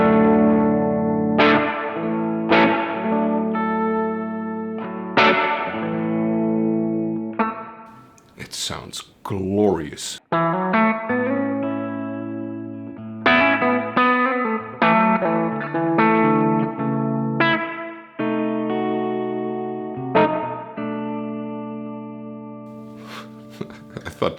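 Electric guitar notes and strummed chords ring out through a Crazy Tube Circuits Sidekick Jr reverb pedal with a lush, lingering reverb tail, broken briefly by a few words of talk.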